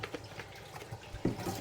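Hot water runs from a tap into a sink holding disinfectant for cleaning: a soft, steady splash and trickle throughout, faint and close, with a slightly fuller gush near the end and no talking.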